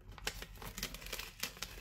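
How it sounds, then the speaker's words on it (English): Copy paper being gently peeled off foam adhesive for die cutting, a quiet close-up series of crinkling, crackling tears and small snaps. "Then we can just gently peel the copy paper"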